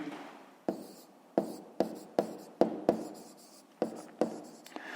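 Pen strokes on paper as a Grade 5 maths answer on rounding decimals is written by hand: a quick series of close, crisp scratches and taps with short gaps, steady and alone.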